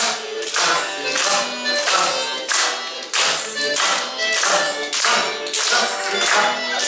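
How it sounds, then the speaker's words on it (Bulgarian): Hand clapping in a dance lesson, steady rhythmic claps repeating in pairs and groups at an even tempo, crisp and close, with almost no voice over them. "Сега. Пляскаме."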